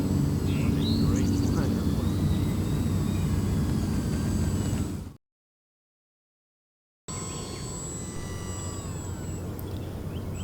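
A Durafly Gloster Gladiator radio-controlled model biplane's engine drones steadily with a high whine in flight, broken by a couple of seconds of dead silence before resuming.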